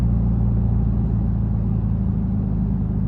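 Deep, steady engine rumble from a widebody Dodge Challenger Scat Pack, loud and close, with a heavy low-end burble running continuously and no voices over it.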